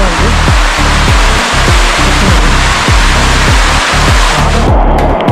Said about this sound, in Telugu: వాటర్ ఫ్లో చూడొచ్చు ఏ విధంగా ఉందో